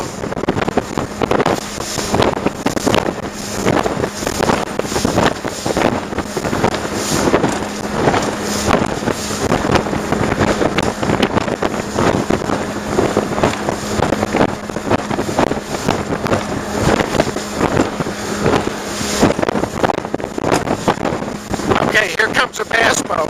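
A boat runs on plane across choppy water, with a steady engine drone and continuous loud wind buffeting the microphone throughout, broken by repeated slapping thumps of the hull on the chop.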